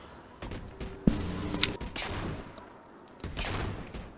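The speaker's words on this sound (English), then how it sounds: "they made the pistol sound so puny to me" Pistol fire in the video game Halo, several light, thin gunshots scattered irregularly amid quieter game noise, with one crisp crack standing out near the start.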